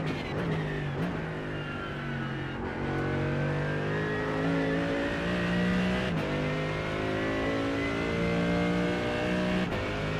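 A GT3 race car engine in a racing game at Mount Panorama, a steady droning hum that rises and falls through gear changes with faint clicks, continuous and close, without talk.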